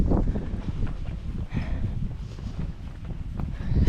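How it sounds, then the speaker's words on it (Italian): Steady wind rushing through trees on an outdoor walk along countryside irrigation channels in Friuli Venezia Giulia, Italy, in early autumn, a continuous broad whoosh with gusty swells and microphone buffeting, no voices. "Il vento tra gli alberi, proprio bello."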